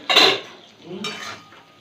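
A cooking pot's lid is lifted during a pot curry, giving a sharp metallic clatter near the start and then a softer clink a moment later, close and fairly loud in a quiet kitchen.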